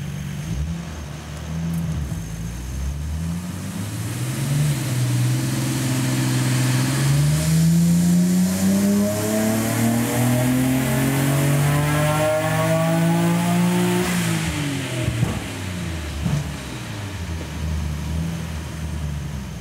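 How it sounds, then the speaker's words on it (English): A car engine revving hard through a boost control test run, with a turbocharged pull aiming for 18 PSI boost. The rising engine tone climbs steadily for about fourteen seconds, then drops off. It is loud and close, and no one speaks. "So let's run up the car."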